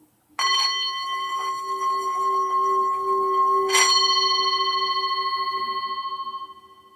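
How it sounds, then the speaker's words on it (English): A single bell strikes and rings with a clear, sustained metallic tone, struck again partway through, then slowly fades away with a gentle wavering shimmer. "And listen to the sound of the bell."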